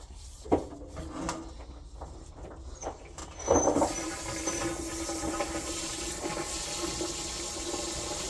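A few knocks and clunks, then hot water starts rushing steadily into a clogged laundry drain from a hose, with a hissing, gurgling flow that continues to the end.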